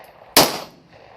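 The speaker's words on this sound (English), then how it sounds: "we'll begin just firing to test reliability" A single sharp, loud shot from a Glock 19 pistol fitted with a Saf-T-Lok, a close crack with a short decaying tail, preceded and followed by quiet background.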